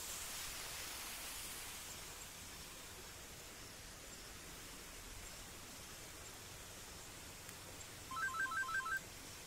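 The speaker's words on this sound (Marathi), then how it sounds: "याच्यावर आपल्याला रिंगटोन मिळणार आहे" A phone ringtone from a call set off through a Raspberry Pi Zero W sounds as a short run of quick, evenly spaced electronic beeps near the end, following a long stretch of steady background hiss.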